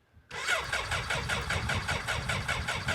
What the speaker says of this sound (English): That is the fuel pump.